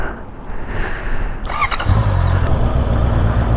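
A Honda CB650R motorcycle being ridden: a steady, loud engine drone with wind rush, which deepens into a fuller, heavier rumble partway through. No talking.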